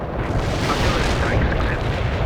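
Artillery barrage in the World in Conflict real-time strategy game: a dense, continuous rumble of blasts and explosions, loud and sustained throughout, with no clear gaps between impacts.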